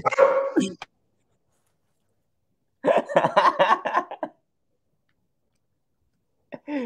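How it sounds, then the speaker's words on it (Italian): An excited dog barks in several short bursts, loud and close, separated by silent gaps, with a final brief yelp at the end; people chatter nearby during a night of stargazing at a telescope. "È anche il cane che festeggia insieme a te."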